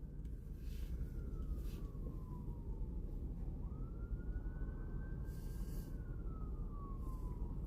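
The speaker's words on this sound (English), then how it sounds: "Sounds like the ambulance coming in for that medical call." An ambulance siren in Cheyenne, Wyoming wails, sweeping slowly up and down over a steady rumble of road noise, sounding moderately distant.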